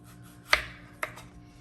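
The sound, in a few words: knife slicing an apple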